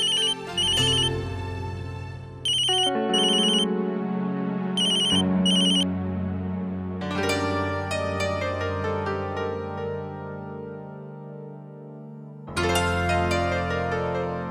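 An outgoing phone call rings out as a melodic electronic ringtone, loud and close, with chiming tones that repeat in phrases and pause between rings, with no one speaking.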